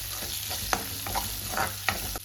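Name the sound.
tempering seeds frying in oil for green chilli tomato chutney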